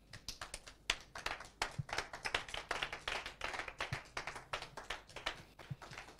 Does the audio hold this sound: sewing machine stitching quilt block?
no